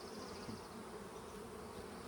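Calm honey bees drone in a steady, dense hum at an open hive during smoking before queen rearing, the buzz continuous and close throughout with no voices.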